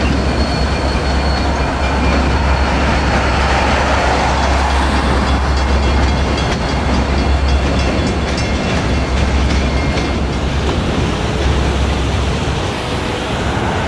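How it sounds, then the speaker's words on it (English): A train rumbles steadily across a rail bridge at Reversing Falls, with a continuous loud roar and faint metallic clatter throughout, no voices. "Goes the train across the train bridge."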